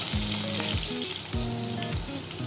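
Whole spices and green chilli frying in hot oil, a loud dense sizzle running throughout, with repeated tonal squeaks that rise and fall as if from stirring against the pan, no voices.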